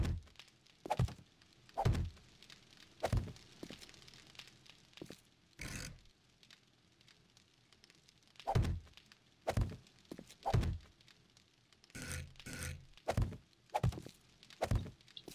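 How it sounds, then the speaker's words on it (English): Oven blocks being placed in the modded Alpha 14 build of the survival game 7 Days to Die: a series of short, sharp thunks, one roughly every second, close and fairly loud with brief pauses between. "Let's put down some ovens."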